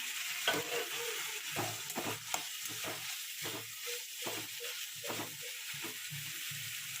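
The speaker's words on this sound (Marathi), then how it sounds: "टोमॅटो घातली आता भाजून घ्यायचं" Tomatoes fry and get stirred in a pan while cooking Marathi okra bhaji. A spatula scrapes and turns them in a repeated rhythm through the clip over a continuous soft, close sizzle.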